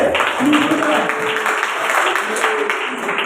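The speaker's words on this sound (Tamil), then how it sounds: "கைத்தட்ட தட்டு" A church congregation claps along together, steady dense clapping with preaching voices over it.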